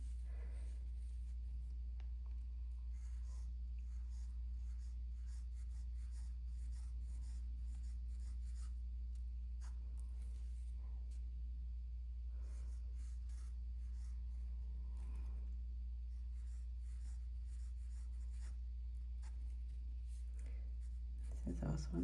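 Genhao 1935 fountain pen writing on paper, faint soft scratching strokes coming in short irregular bursts over a steady low hum, with a person talking now and then.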